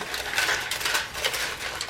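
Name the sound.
aluminum foil being crumpled by hand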